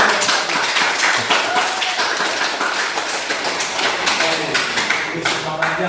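A classroom of students clapping together in a steady dense patter that continues throughout, loud and close, with voices mixed in.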